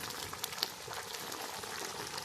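Food boiling hard in a pot, a dense, steady bubbling hiss with small pops throughout, close and fairly quiet, with no speech.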